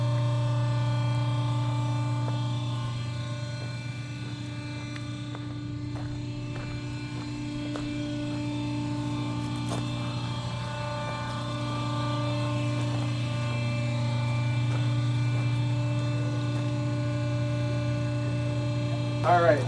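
A hydraulic mobile LED screen trailer, its hydraulics housed in a stainless steel case, raises its screen with a steady, loud mechanical hum and buzz that runs unbroken throughout, with no talk.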